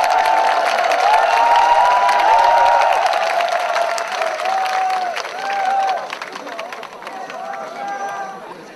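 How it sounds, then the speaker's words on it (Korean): An audience at a 2006 entertainment show for a military unit applauds steadily, with a broad wash of clapping, cheering and crowd noise that stays loud and then slowly eases off. "큰 박수로 환영해주시기 바랍니다."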